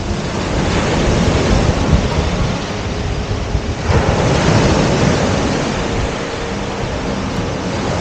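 Waves break on the Lake Erie North Shore beach, a loud continuous surf wash with gusty wind buffeting the microphone, rising and easing over several seconds, no voices.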